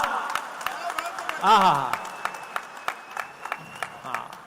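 An audience at a Hindi poetry gathering claps for an engineer poet. The applause is moderate and scattered, and a voice briefly speaks over it.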